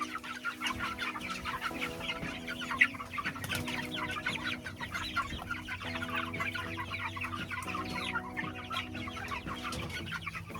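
Three-week-old meat chickens being moved from the brooder out to pasture cluck and chirp continuously, a busy flock chatter close by with a steady low mechanical hum beneath and one sharper squawk early on.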